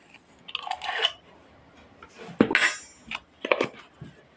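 A spoon clinks and scrapes against a bowl while beetroot powder is mixed into natural henna powder, in several short bursts of stirring and tapping, close and fairly loud.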